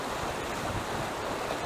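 River flowing through a Colorado mountain canyon, a steady broadband rush of water heard close and continuous without any voices.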